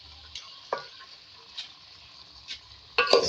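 Vegetables (potatoes, beans, okra and ridge gourd) with chopped garlic cook in a pan, a soft, low sizzle under a few sharp spoon-against-pan clinks from stirring, with no talking.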